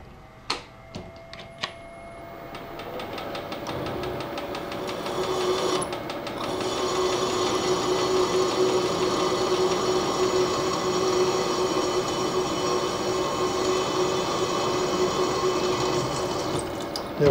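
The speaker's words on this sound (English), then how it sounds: "Get the hole drilled all the way." Drill boring through stainless steel, starting with a few sharp clicks and then settling into a steady, loud high-pitched whine and grind that holds for many seconds.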